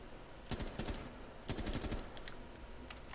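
Quiet bursts of automatic gunfire in the game Rainbow Six Siege, two short volleys about a second apart, followed by a few scattered single shots.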